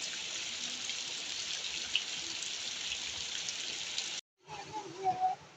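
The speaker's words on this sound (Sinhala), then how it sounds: "දැන් නම් හොඳටම වහිනවා." Heavy rain falls in a steady, close hiss for about four seconds. It cuts off briefly, and then voices speak over softer rain.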